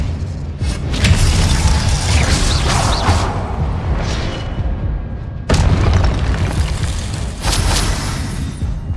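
Spell effects in Hogwarts Legacy: loud booming blasts and crackling impacts in dense overlapping bursts, with a sharp new blast midway.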